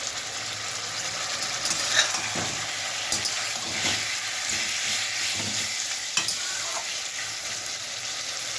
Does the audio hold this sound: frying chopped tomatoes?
yes